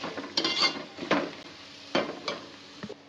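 Three large onions frying in a pot for chicken biryani, stirred with a utensil in a few distinct scraping knocks against the metal over a quiet, faint sizzle, fairly close and with no talking.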